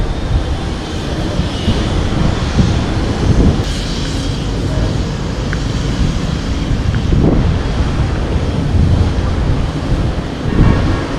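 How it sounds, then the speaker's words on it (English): Strong wind roars steadily at a beach beside a hotel in Da Nang, Vietnam, as a typhoon approaches, with low gusty rumble, surf noise and a few louder swells throughout; no one speaks. "oh, it's very windy"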